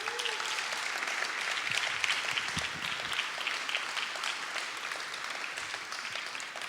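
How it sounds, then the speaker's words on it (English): Audience applause at a proclamation ceremony honoring an Olympic silver medalist in surfing, a dense, steady clapping crowd sustained evenly throughout with no talking over it. "Can we give them a huge round of applause?"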